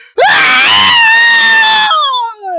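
A human voice imitates the screams of a noble with one long, loud, strained scream that holds steady and then trails off into a falling, fading wail.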